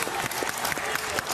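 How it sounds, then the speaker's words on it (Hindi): A television reality show grand finale audience applauds loudly, with dense, continuous clapping from a large crowd throughout. "सुदेश पाजी के लिए एक बार जोरदार तालियां"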